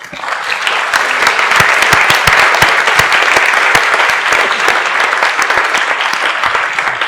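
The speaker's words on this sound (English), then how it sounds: "So I think we owe him a clap of hands." A symposium audience gives sustained applause at the end of a talk, steady close clapping throughout with no voices over it.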